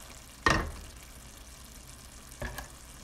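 A spoon stirs cauliflower tagine in a pan, giving two short scraping, sizzling strokes about two seconds apart over a faint, quiet simmer.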